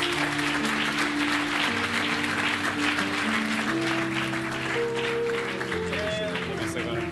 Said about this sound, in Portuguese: Aquele que recebeu a palavra, glorifica a Deus com as palmas